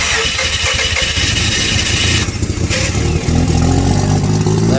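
A used, flooded Mazda RX-8 rotary engine with a disconnected exhaust cranks and catches on its first start, loud and close, sputtering into a rough, raw running note.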